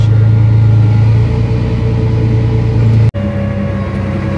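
A farm tractor's engine runs steadily in a close, enclosed drone during crop spraying, with one abrupt brief dropout of the sound partway through and no talking.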